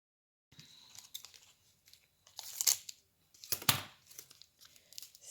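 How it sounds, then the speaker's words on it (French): Masking tape pulled off the roll in several short ripping bursts, the louder strips near the end, close and alone in a quiet room while a tree model is being made. "on sort le ruban de masquage."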